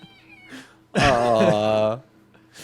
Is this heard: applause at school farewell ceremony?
no